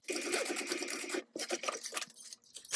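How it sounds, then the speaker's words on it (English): A sewing machine stitches a bag, a fast steady clatter of needle strokes that pauses briefly and then resumes in shorter bursts, close and distinct. "let's do our second row now for real, without the machine breaking, hopefully"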